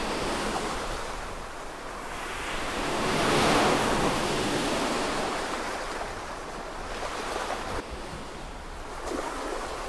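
Ocean waves wash onto a sunlit beach in a steady broadband roar that swells to a peak, then settles into continuous surf with no voices, wind adding to the hiss.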